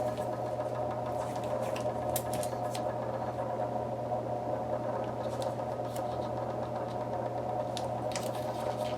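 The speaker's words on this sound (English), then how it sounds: "when I run them through my die cut machine" Electric die cut machine droning steadily as card and taped dies feed through, a constant mechanical hum with faint clicks and ticks on top, nearby and without speech.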